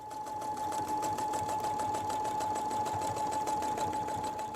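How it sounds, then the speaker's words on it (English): A sewing machine runs a zigzag stitch over gathered fabric at the side seams of a costume top, a steady rapid needle chatter with a constant hum, close and continuous throughout. "now I'm going to stitch it down with a zigzag stitch"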